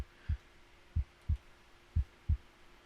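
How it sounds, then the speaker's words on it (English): A slow heartbeat thumps on spawning into an ArmA 3 zombie sandbox game, five distinct low beats in an uneven rhythm over a quiet, steady hum. "Now when you load in, the screen's a bit dark and you hear that heartbeat."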